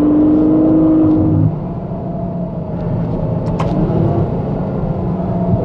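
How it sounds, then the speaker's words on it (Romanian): A Ferrari FF's naturally aspirated V12 engine revs hard with a rising, sustained roar, then settles into a steady, loud rumble that fills the whole stretch. "Motorul aspirat V12 va rămâne motorul aspirat V12."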